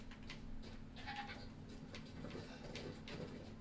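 A goat bleats in a fantasy video game village, a short, faint cry over a steady low game-ambience hum, with no talk.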